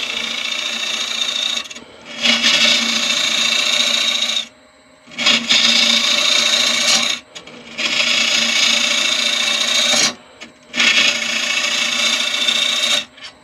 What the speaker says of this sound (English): And I'm going to use the exact same technique, the exact same spot on the gouge there. Right. And I'm just going to pull across.